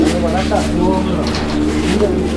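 Fancy pigeons coo softly at close range, their low murmuring calls partly masked by someone talking over them and a steady background hum.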